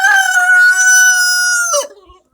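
A rooster crows once, a loud, close, sustained call of nearly two seconds that breaks off at the end, outdoors among a family's backyard chickens.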